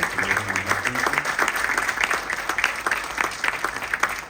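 An audience applauds Engineer Norma Fuentes, the intendente, at a public presentation. A few seconds of steady, dense clapping fill the room, and a brief murmur of voices can be heard underneath at the start.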